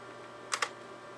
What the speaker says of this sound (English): And what does it do when you press the print screen key?